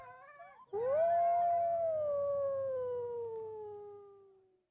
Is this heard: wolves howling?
yes